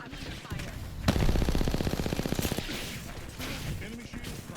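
Rapid automatic gunfire in the Apex Legends video game, a dense burst of shots lasting over a second amid other game noise and a voice.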